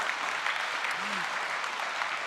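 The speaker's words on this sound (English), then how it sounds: "That's what we're clapping about." A church congregation clapping for the church's 10th birthday, dense continuous applause filling the room, with a brief voice rising over it.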